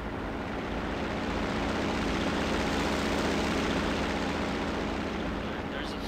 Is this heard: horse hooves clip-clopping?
no